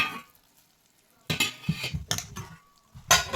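Warm milk is served into a bowl for a breakfast of milk and roti: close clinks of a utensil against the dish and a pouring splash, set in short bursts between quiet pauses.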